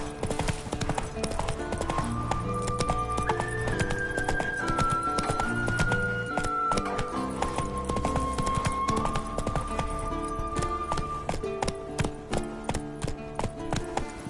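Video-game horse Roach from The Witcher galloping, hooves clip-clopping in a fast, steady rhythm throughout, with music playing underneath.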